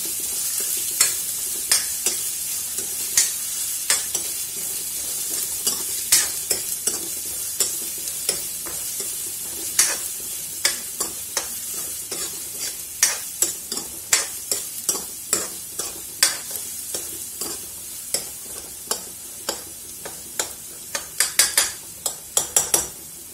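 Chopped onions for a bottle-gourd kofta curry sizzle in hot oil while a spatula scrapes and clinks against the pan in quick, uneven strokes that grow denser toward the end.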